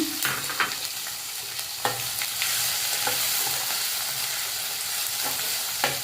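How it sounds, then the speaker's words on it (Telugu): Chopped onions frying in oil in a pan for a spicy Andhra fish curry give a steady, close sizzle, with occasional scrapes and knocks of stirring. "ముందుగా తరిగిన ఉల్లిపాయలు వేస్తాను"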